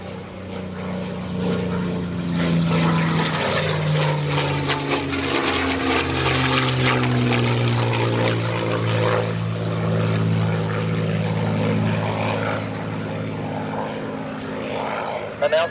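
A World War II-era propeller warbird flies an aerobatic display at the EAA AirVenture 2025 airshow, its piston engine droning loudly and steadily with pitch shifts as it passes, while an announcer talks over the sound throughout.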